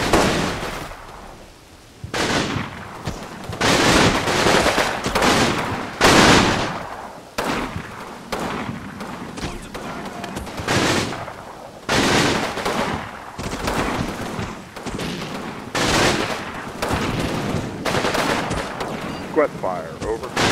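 MG-42 machine guns firing in the WWII game Combat Mission: Battle for Normandy, loud bursts of rapid gunfire repeating in clusters over a steady battlefield background, with a voice talking between some bursts.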